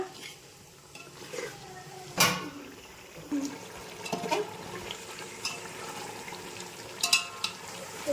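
Biryani ingredients cook in a pot with a steady low bubbling and sizzle, broken by several sharp clinks and scrapes of a utensil against metal, close by and without speech.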